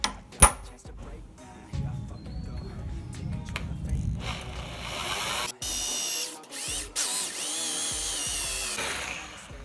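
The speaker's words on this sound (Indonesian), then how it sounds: "Jadi daripada nggak balance, aku akan bor yang sebelah kanan." A power drill whines in short bursts with pauses and metallic clinks between, drilling a GSX-R handlebar fitted to a Suzuki Satria FU 150, close up and fairly quiet, with brief speech.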